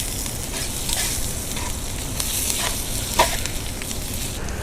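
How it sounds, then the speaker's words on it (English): Onions and chorizo sausage fry together in a pan for a Spanish breakfast, a loud, continuous crackling sizzle broken by occasional scrapes and knocks of stirring. "we can add our chorizo or smoked Russian. And we just fry it all nicely together for a couple of minutes"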